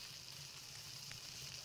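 Food sizzles and fries steadily in PalWorld, a faint continuous hiss with no other sounds over it.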